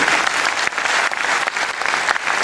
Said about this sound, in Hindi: एक बार दिल खोल के आप लोगों के लिए ताली बजानी चाहिए।